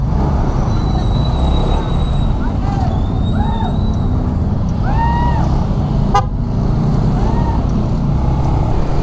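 Road traffic on McArthur Highway heading back toward Manila, a dense, loud rumble of engines with several short horn toots and a sharp squeal rising over it, close and continuous.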